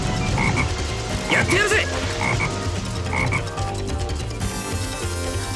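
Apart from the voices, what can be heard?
frog croaking in Sonic Heroes video game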